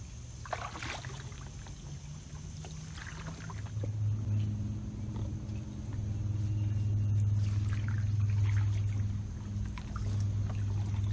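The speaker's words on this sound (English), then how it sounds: "Somebody kayaking back there." On the Wekiva River, a kayak is paddled nearby, its faint paddle strokes and splashes sitting over a steady low rumble, with no voices.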